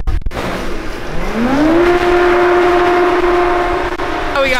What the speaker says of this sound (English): I'm gonna go over here to this bin fan. I'm gonna turn this on